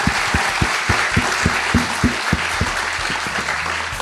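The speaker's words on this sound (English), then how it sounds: "round of applause for Te Aihe Butler." An audience claps steadily through a live New Zealand radio show recording, dense and continuous applause with no voices over it.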